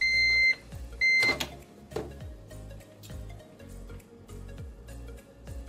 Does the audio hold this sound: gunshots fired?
no